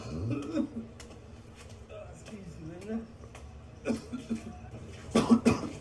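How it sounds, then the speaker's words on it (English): A man coughs several times in short, scattered bursts amid quiet conversation, with people talking nearby throughout and a few louder coughs toward the end. "his cough is annoying me"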